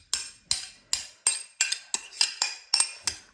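A utensil scrapes and clinks against a bowl while potato salad and chopped boiled eggs are mixed, making about ten steady, evenly spaced metallic taps at close range with no talk.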